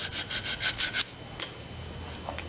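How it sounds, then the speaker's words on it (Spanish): Sandpaper rasps against a wooden long-handled spoon turned on a lathe in a few brisk back-and-forth strokes up close, then thins to lighter, scattered rubbing. "con una lija entonces puedo resanar o"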